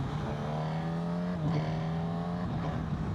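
A Honda CB1000GT motorcycle engine revs hard through auto-blipped downshifts, its steady tone jumping in pitch around the middle of the clip, loud and close with no voices over it.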